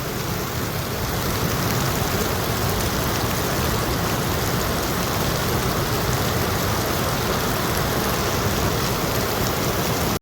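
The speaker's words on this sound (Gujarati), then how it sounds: "વરસાદ જોવો તમે, આ પાણી થઈ" Heavy rain pours down steadily in Babra around a half-loaded goods vehicle whose load is soaked, giving a dense, continuous hiss and patter on surfaces for the whole stretch, loud and unbroken with no voices.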